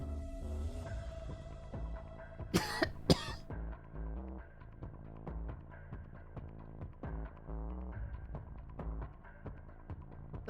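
Two sharp coughs in quick succession from a cough button in RedM roleplay over steady game music with a rhythmic pulsing beat.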